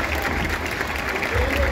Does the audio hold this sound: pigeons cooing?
no